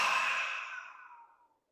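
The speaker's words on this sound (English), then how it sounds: "maybe we can try to do deep breathing together" A single long, breathy exhale through the mouth, close and soft, fading out gradually over about a second and a half during a guided breathing exercise.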